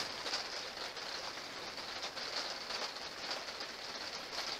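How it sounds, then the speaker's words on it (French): Rain falling in Bordeaux, a soft steady patter and hiss with faint irregular taps, distant and quiet throughout. "La pluie, la pluie, la pluie."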